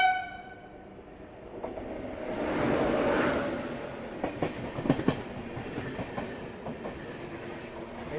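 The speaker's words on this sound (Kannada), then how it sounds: "ಡಿಪಾರ್ಟ್ ಆಗೋದಕ್ಕೆ ನಮಗೆ ಇಲ್ಲಿ ಕ್ರಾಸಿಂಗ್ ಆಗಿ ಬಂತ ಕರ್ನಾಟಕ ಸಂಪರ್ಕ ಕ್ರಾಂತಿ ಎಕ್ಸ್ಪ್ರೆಸ್. ಎಕ್ಸಿಲರೇಷನ್ ನೋಡ್ರಿ ಇದ್ರದ್ದು." A Karnataka Sampark Kranti Express passenger train passes close by and accelerates, with a loud rumbling swell, rhythmic clickety-clack of wheels over rail joints, and a horn tone at the start.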